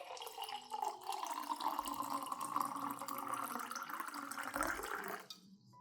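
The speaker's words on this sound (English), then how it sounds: "Next, I add 300 milliliters of clean water" Water pours steadily into a blender for about five seconds, a continuous splashing stream that stops abruptly near the end.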